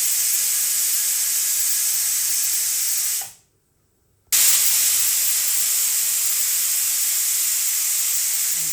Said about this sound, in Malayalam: ഇതിന് ഉപ്പും ചേർത്ത് ലിഡ് അടച്ച് വെച്ച് ഒരു 2 വിസിലടിപ്പിക്കുക.